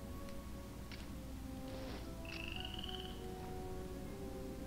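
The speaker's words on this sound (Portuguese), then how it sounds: "Tem um sapo aqui" A frog croaks in the Nintendo Switch game Portal Knights over a steady ambient game background, with a few short chirps and one longer rising trill, faint and without talk.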